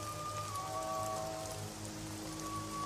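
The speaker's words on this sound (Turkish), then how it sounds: "Sakın durayım deme yağmur, sakın durayım deme." Steady rain falls and patters on surfaces across a wide outdoor scene, a dense continuous wash with no talking, while a few faint sustained tones ring over it.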